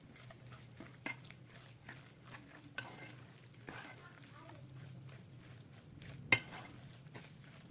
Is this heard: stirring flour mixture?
yes